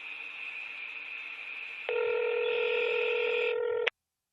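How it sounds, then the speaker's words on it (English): A steady telephone tone plays for about two seconds, then switches to a louder, multi-pitched tone that holds steadily until it cuts off abruptly near four seconds, with no voices present. "this is like your regular dial tone, pretending like we're calling somebody in"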